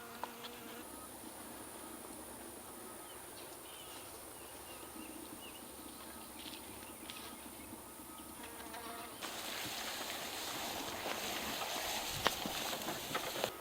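Honey bees buzz around a garden beehive, a dense steady insect drone that carries on without talk and grows slightly louder and brighter toward the end.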